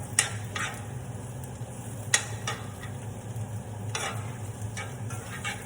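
Red cabbage cooking in a pan, giving a steady soft sizzle with occasional brief stirring scrapes and clinks, close and moderately quiet.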